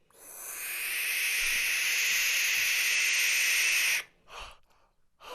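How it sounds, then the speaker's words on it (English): A barn owl gives a long, harsh, hissing screech lasting about four seconds, loud and close, followed by a couple of short fainter breathy bursts. "Oh, there's the barn owl."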